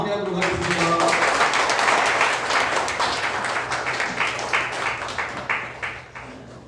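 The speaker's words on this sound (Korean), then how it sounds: "간담회를 큰 박수로 마무리하도록 하겠습니다" A crowd of party members applauds at the close of a Democratic Party meeting in Jeju, loud dense clapping that fades gradually over several seconds into scattered claps, with a voice heard at the start.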